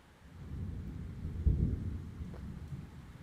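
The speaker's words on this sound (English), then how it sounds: "It's storming right now outside." Thunder from a storm outside rolls in as a low, muffled rumble that swells to a dull peak midway through and then fades, with no voices over it.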